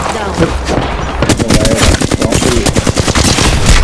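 Rapid automatic gunfire from the battle royale game Apex Legends, starting with scattered shots and building into a dense, loud, continuous burst of fire that dominates the scene.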